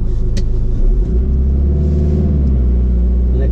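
A Ford Transit tipper truck engine idles up close with a steady low diesel rumble and a slight rise in revs partway through, with no voices.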